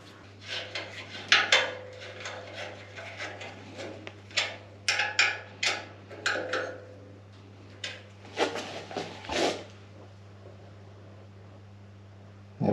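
Metal clunks, taps and rattles come in irregular bursts as a part is bolted onto a beach buggy chassis in a workshop, close by over a steady low electrical hum.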